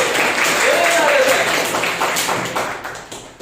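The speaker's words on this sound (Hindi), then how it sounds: "ताली भी नहीं बजा सकते।" Students in a classroom give scattered, uneven hand clapping that thins out and fades over a few seconds, with a voice talking over it.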